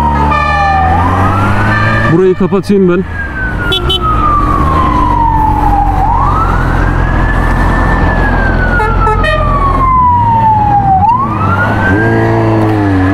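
A fire engine siren wails in long rising and falling sweeps as it passes close by during a large fire in Izmir, with a deep engine rumble and a brief spoken remark.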